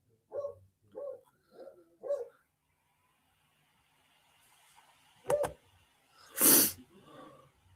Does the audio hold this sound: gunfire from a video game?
no